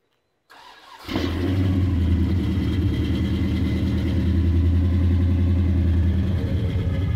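A 1970 Pontiac GTO's 400 V8 engine cranks briefly and catches, then settles into a loud, steady, rumbling idle that continues without talk.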